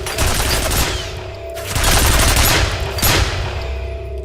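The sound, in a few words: gunfire at a ceiling gun in video game F.E.A.R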